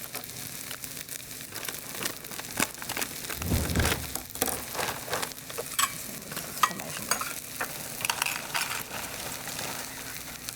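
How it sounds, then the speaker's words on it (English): A pot of water boiling on a stove in a home kitchen, a steady bubbling hiss with scattered clinks and stirring noises throughout, moderately loud with no talking. "here we have the pot boiling with water"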